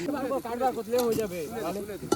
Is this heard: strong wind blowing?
no